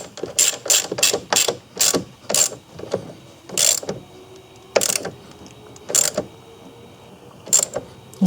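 Ratchet tightening a battery terminal on a 2016 Ford Escape, close, crisp clicking bursts in quick repeated strokes, slowing to a few spaced clicks, with no talk.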